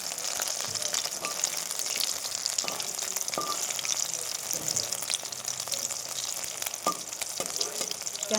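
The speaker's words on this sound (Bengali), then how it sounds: "দেখো গ্যাসটাকে ছোটো করে দিয়ে এরকম ভাজছি।" Fish frying in a pan over a low gas flame, a continuous dense sizzle with scattered pops and crackles, close and steady throughout, no talk.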